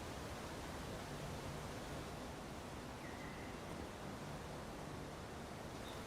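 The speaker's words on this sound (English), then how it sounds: "Always check behind the waterfall?" A waterfall in the Avowed video game gives off a steady, dense rush of broadband roaring water, unbroken and fairly faint throughout, with no voices.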